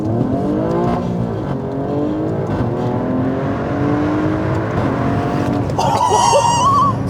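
Ferrari-derived 2.9-litre twin-turbo V6 of an Alfa Romeo Stelvio Quadrifoglio pulling hard through rising revs with gear changes, loud from inside the cabin, ending in a brief tyre squeal or whistle.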